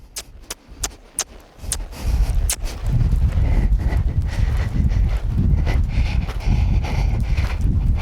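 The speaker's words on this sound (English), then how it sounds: "I'm going to lope her again." Sharp, rhythmic hoofbeats of a Paint mare at a lope, then a heavier, continuous rumble of movement and breathing close by.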